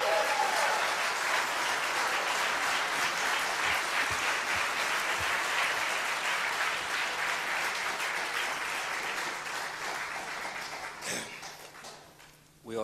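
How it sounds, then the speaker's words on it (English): An audience at a debate on the Iraq war bursts into loud, sustained applause that fades toward the end. "We ought to hold the applause till the end."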